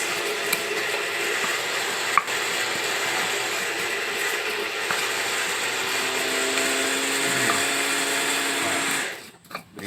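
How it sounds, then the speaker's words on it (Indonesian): An electric blender grinds peanut sauce for batagor in a steady, loud, whirring roar that runs continuously for nearly ten seconds before cutting off abruptly at the end. "pembuatan bumbu kacang sedang di blender"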